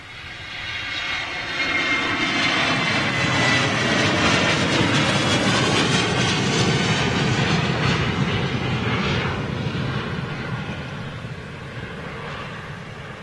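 Jet airliner passes at London City Airport, a loud broad engine roar that swells over about two seconds, holds steady through the middle and slowly fades toward the end, with no talking.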